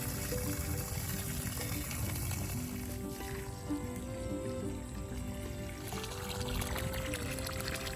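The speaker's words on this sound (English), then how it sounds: "Water it in real good." Lake water drawn by a 1/4 horsepower sump pump pours over a newly planted pecan tree, a steady, close splashing stream over a tonal hum, with no talk.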